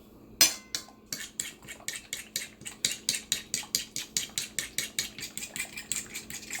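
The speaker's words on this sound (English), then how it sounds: "Scramble it and mix it up." Egg is mashed and whisked on a plate with a fork, giving a fast, even run of clinking taps against the plate, close and fairly quiet, beginning with a single sharper knock; no talking.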